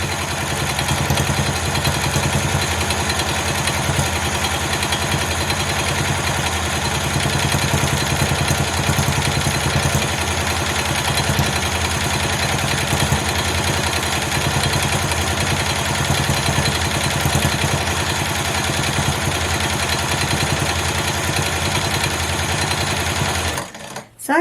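A quilting machine stitches dense micro quilting in a continuous, fast mechanical buzz with rhythmic clatter. It runs steadily and up close for the whole stretch, then stops abruptly at the end.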